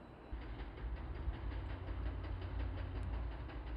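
Overhead catenary maintenance rail car pulling into Yeosu station after midnight, a steady low engine rumble and rolling rail drone at moderate distance, with no voices.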